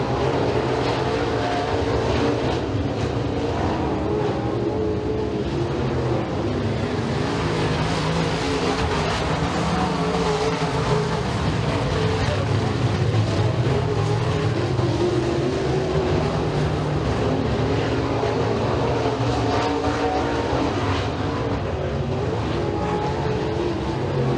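Dirt-track race cars roar through a heat race at Eriez Speedway, a dense, continuous engine drone from several cars lapping the oval, steady and loud for the whole stretch with no talk over it.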